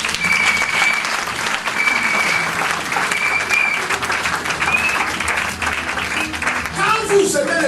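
A church congregation applauds the Lord with steady, loud, sustained clapping from a large crowd, accompanied by scattered voices and cheers throughout.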